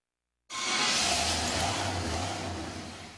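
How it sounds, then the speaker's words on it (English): A 1968 Pontiac Catalina engine starts up and runs with a loud, rough roar, low rumble steady underneath, holding without easing off. "That sound is music to Pontiac fanatic Greg White's ears"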